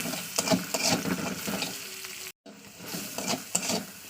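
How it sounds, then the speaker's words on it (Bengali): Onion frying in oil with turmeric, spices and salt, a steady close sizzle broken by repeated scraping stirs of a spatula in the pan, with one brief moment of silence partway through. "এটাকে ভালো করে কষিয়ে নিতে হবে"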